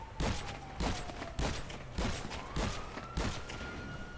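Heavy shotgun blasts in GTA Online, six heavy booming shots at a steady pace about every 0.6 seconds, loud and close with a faint tonal hum running beneath them.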